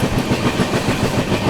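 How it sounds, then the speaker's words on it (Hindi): The Begampura Express, running from Varanasi Junction toward Jammu Tawi, rumbles loudly and steadily close by with rhythmic clickety-clack of wheels over rail joints. "सामने से आ रही है वाराणसी जंक्शन से चलकर जम्मू तवी की ओर जाने वाली"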